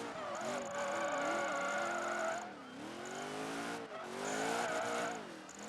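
Tires squeal in long, wavering skids as a car drifts in Project Gotham Racing 3 on the Oedo Style series, the engine droning loudly underneath and pitching up and down through two sustained slides.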